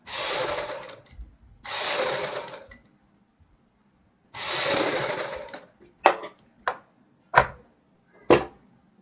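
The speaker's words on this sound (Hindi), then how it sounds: "यहाँ पे हम एक साइड सिलाई लगाएंगे" A sewing machine stitches a side seam on a kurti in three sustained runs of about two seconds each, separated by pauses. Several short mechanical clicks and thumps follow, close and fairly loud, with no talking.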